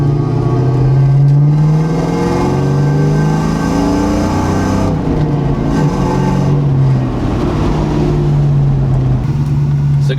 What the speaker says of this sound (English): I'm gonna give you a second gear pull.